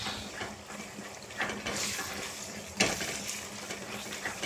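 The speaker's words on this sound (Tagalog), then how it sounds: "Ginigisa na natin ang ating bagoong alamang." Shrimp paste (bagoong alamang) is sautéed in a pan, with soft sizzling and frying hiss as a spatula stirs and scrapes, including one sharper clink midway, fairly quiet and without talking.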